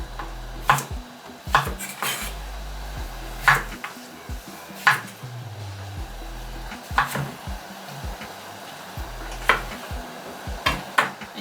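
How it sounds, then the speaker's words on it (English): Knife cuts through green vegetables on a cutting board for minestrone, a string of sharp, close chops and taps spaced irregularly with some clatter between them. "So I'm just gonna slice them right in half again, horror movie style"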